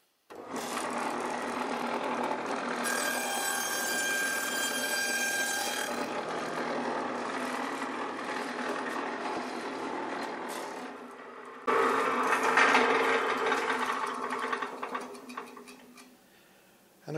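A power saw rips through wood to make brood frames for beehives, a loud, steady cutting whine that runs continuously, then changes pitch and grows harsher as a fresh cut starts near the end.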